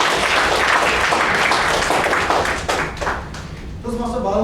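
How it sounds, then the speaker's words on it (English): An audience at a Toastmasters meeting applauds, a dense wash of hand clapping that thins toward the end as a voice begins speaking. "so give him a big round of applause."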